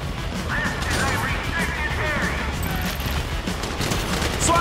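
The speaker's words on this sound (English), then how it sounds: "You hear that gunfire?" Gunfire from Grand Theft Auto V during a heist shootout, dense bursts of shots and crashes layered over a busy game mix with voices talking throughout.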